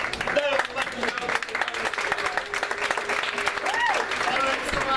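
A round of applause from a studio audience during a live show, steady clapping throughout at moderate volume, mixed with some voices and a brief whistle or cheer.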